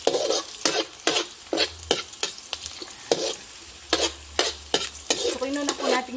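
Garlic sautéing in hot oil, stirred with quick repeated scrapes and clinks against the pan above a steady sizzle. The rhythm is busy and irregular, with a low hum underneath.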